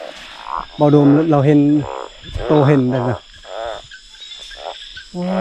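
Oong frogs croak in loud bursts of several harmonic calls each, close by, while being caught at night; people talk in between.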